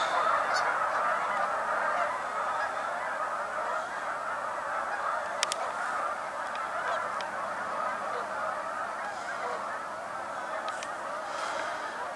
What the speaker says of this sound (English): Mallards.